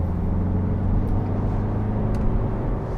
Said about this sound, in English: you can hear it now. That diesel thrum.